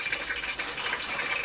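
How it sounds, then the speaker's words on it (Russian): Cooking oil heats in a pot before popcorn goes in, giving a close, steady bubbling and sizzling hiss that runs unbroken with no voices. "Кипит масло."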